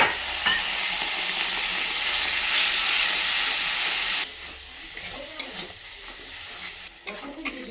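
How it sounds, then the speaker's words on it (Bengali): Spice paste of ginger, turmeric and chili powder cooked down with a splash of water, a loud hissing sizzle for several seconds that suddenly drops to quieter frying with scattered stirring scrapes, close and no talking. "একটু জল দিয়ে মশলাটাকে কষে নেব"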